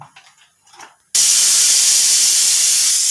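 A pressure cooker of green gram dal on a stove gives a sudden loud burst of steam after a quiet moment, then a continuous forceful hiss that holds steady to the end.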